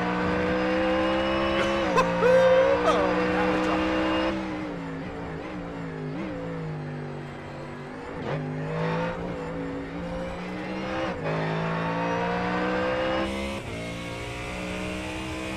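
A race car engine in a Gold Series track session screams loud and close, pulling through gears with dips on lifts and downshifts, then climbing again; someone briefly speaks over it.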